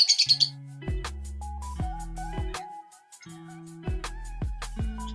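African lovebirds chirping, with a quick run of high bright tweets at the start, then scattered short calls and squawks over a few seconds, close by against other low tonal sounds.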